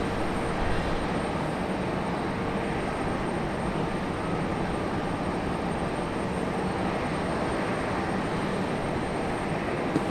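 A JetBlue airliner taxis toward the runway at Raleigh-Durham International Airport, giving a steady, continuous engine roar with broadband rumble that holds at an even level for the full stretch, no voices heard.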